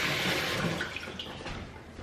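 Tap water runs into a large cooking pot for a seafood boil, a full, steady gushing splash close by that eases slightly toward the end, with no talking.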